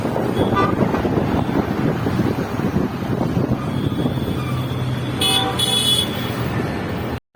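Busy road traffic rumbles past with wind buffeting, and a couple of car horns honk near the end.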